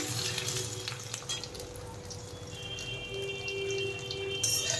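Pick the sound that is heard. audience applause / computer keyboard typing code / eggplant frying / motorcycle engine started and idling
eggplant frying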